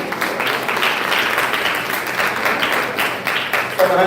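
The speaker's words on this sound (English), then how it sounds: "Some hands haven't started clapping yet." Audience applause at a Lay Magistrate Association of Jamaica essay competition award ceremony, a continuous patter of many hands clapping in a hall, fairly loud and steady for several seconds.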